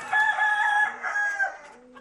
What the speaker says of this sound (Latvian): te ir vecais gailis, jā, pieaugušais